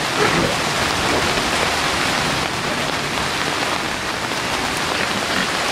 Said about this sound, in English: It only started raining like 10 or 15 minutes ago